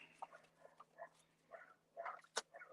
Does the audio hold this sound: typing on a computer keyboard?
no